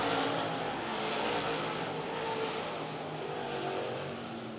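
Limited late model race cars circle Lancaster Motor Speedway in a continuous loud engine roar, with pitch swelling and fading as the pack sweeps past on the track.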